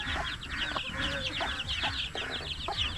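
Several hens cluck in short bursts amid a busy, noisy farmyard, with some higher chirping layered over the steady background.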